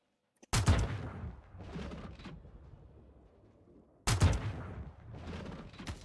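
Two booming sniper rifle shots in Star Citizen, each a loud sharp crack followed by a long rolling echo, spaced several seconds apart, with a faint click just before the first.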